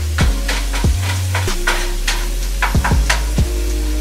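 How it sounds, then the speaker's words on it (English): Ingredients for spaghetti sauce sauté in a hot pan, a close sizzle broken by several sharp clanks and scrapes of a utensil stirring against the pan. "Let these saute for a little bit"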